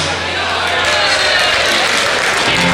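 Loud, dense applause from an audience at a carnival prince's night in a hall, rewarding a song, rolling on without pause throughout, with voices and crowd noise mixed in.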